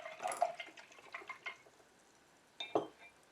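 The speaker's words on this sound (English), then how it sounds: "I'll put that brush in the water." A paintbrush clinks and swishes in a water jar during painting. Several faint, quick splashes and taps come close together, a pause follows, then two more clinks sound at close range.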